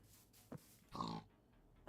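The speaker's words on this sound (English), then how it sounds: "Just pigs." A couple of faint, short pig grunts from a Minecraft modpack video game sound quietly against a soft background, with no talking.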